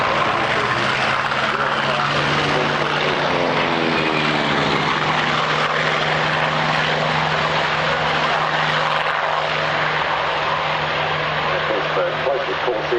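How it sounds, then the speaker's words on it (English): A yellow-nosed Vought Corsair fighter passes at an airshow, its piston engine and propeller giving a loud droning roar with a pitch that slides as it flies by, under a commentator's talk. "Closest Corsair here with the yellow nose and XRNZAF model"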